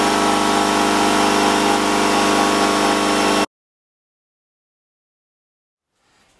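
A Harbor Freight McGraw 6-gallon air compressor runs loud and steady from about two feet away with a dense mechanical drone, then cuts off abruptly into silence.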